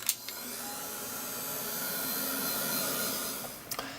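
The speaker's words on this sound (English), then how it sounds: "And then I'm going to give it a quick blast with the heat gun." A heat gun blows steadily over a mixed media seahorse canvas, giving a constant loud whooshing roar that runs almost the whole time, with a brief click at the start and a click near the end.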